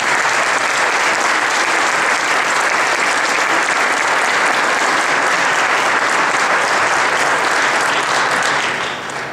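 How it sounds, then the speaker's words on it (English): Loud, sustained applause from a large audience at an anniversary party, dense clapping that holds steady throughout and tapers slightly at the very end. "a nice round of applause for the entire team"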